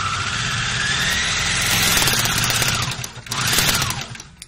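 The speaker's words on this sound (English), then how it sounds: "When you serge this, you don't need to be conscientious to pull anywhere because you've controlled that with your basting stitches." A serger overlock machine finishes a knit neckline binding, its motor whirring in a fast, steady stitching rhythm up close. The run pauses briefly, then picks up again before stopping.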